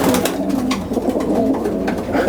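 Racing pigeons coo steadily in a loft, a continuous layered chorus of soft throaty calls from several birds at close range, with no talking.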